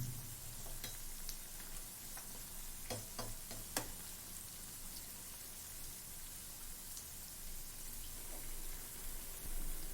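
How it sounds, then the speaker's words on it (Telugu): Mysore bonda batter fries in hot oil over a medium flame, making a continuous close sizzle with scattered sharp pops and crackles throughout. "ఇలా మీడియం ఫ్లేమ్లోనే మన బోండాల్ని రెండు వైపులా గోల్డెన్ బ్రౌన్ కలర్ వచ్చేంత వరకు ఇలా ఫ్రై చేసుకుందాము."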